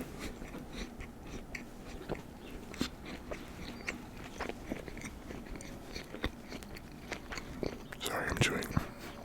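Close, soft chewing and biting of a ham sandwich and chopped salad, with small crunches and mouth sounds scattered throughout and a burst of louder crunching near the end.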